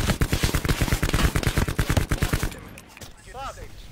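Rapid automatic gunfire from the Black Ops 4 Blackout battle royale game fills the first half in dense, close bursts, then drops to quieter game ambience with a brief chirping effect.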